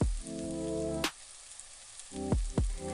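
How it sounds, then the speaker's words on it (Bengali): Poha pulao sizzling in ghee in a pan as it is stirred after the lid comes off, a steady close fry hiss broken by a few sharp scrapes and knocks of the spoon. "তো ঢাকাটা খুলে আমি আবারও একটু নাড়িয়ে নিচ্ছি।"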